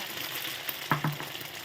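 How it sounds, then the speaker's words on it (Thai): Eggs beaten with cha-om leaves frying in a hot pan, a soft steady sizzle throughout with two brief louder splatters near the middle. "ทอดแล้วนะคะ ทอดแล้ว"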